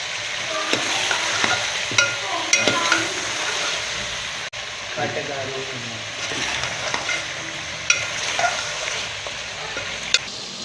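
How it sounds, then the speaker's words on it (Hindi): Tinda round gourd and meat frying together for a traditional Pakistani curry, a close sizzle broken by repeated spatula scrapes and knocks against the pan, irregular stirring rhythm, no voices. "अब हम इसमें ऐड करेंगे टिंडे। अब इसको भी 5 से 7 मिनट फिर भूनेंगे।"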